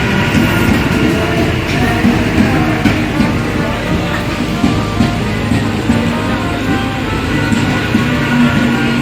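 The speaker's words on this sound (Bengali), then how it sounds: "ট্রেনটা চলে আসলো আমাদের কাছেই" A passenger train pulls in at a station on a wet day, its steady rumble and rattling wagons filling the scene with a constant, loud low roar and no clear voices.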